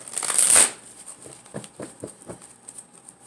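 A loud riffle of tarot cards up front, followed by several soft, spaced taps as the deck is squared and handled nearby.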